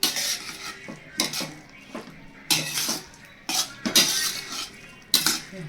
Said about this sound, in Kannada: ಇವಾಗ ಎಲ್ಲನೂ ಚೆನ್ನಾಗಿ ಮಿಕ್ಸ್ ಮಾಡ್ಕೊತಾ ಇದ್ದೀನಿ